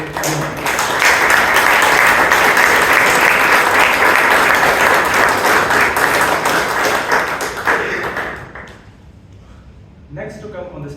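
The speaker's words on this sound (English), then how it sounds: "let us give a loud applause for Chandra for today." Loud, dense applause from a Toastmasters meeting audience in Bangalore, sustained clapping for about eight seconds before tapering off, followed by a voice speaking.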